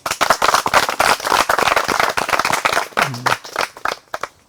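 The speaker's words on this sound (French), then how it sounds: "j'aimerais qu'on puisse vous applaudir" An audience at an agricultural gathering in Zata applauds, loud close clapping with sharp individual claps, strong at first and thinning toward the end into a few scattered claps.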